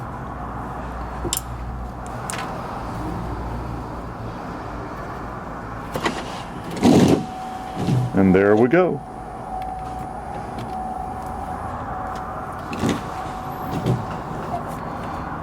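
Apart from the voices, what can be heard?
electrical clicking and popping in a 2008 Chevrolet Silverado as battery cable is wiggled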